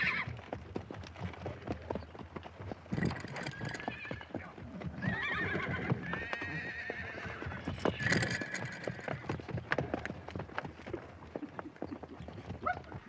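Horses whinny and neigh repeatedly over a steady clatter of many hooves, loud and close, with a dog barking faintly at times.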